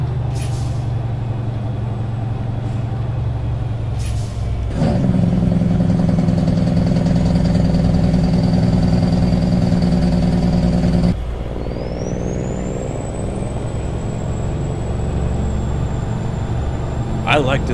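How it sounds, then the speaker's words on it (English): International 9400i Eagle truck engine in American Truck Simulator, a steady low idle rumble with hissing air-brake bursts, a louder revving stretch in the middle, then a rising whine settling back to idle while someone talks over it. "I like this truck with this engine sound."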